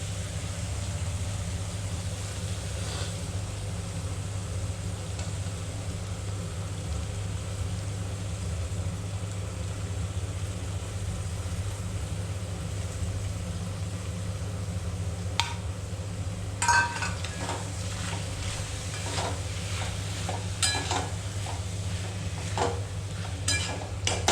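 Chicken pieces are added to a pan of cooked-down spice masala and stirred, giving a steady low sizzle with scattered spatula scrapes and clinks toward the end.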